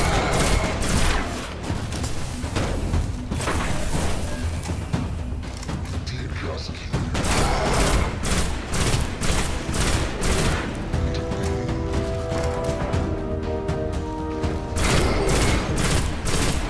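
A weapon in the Destiny campaign on Xbox One fires in rapid bursts and sustained volleys, loud and continuous, with voices talking over the shooting.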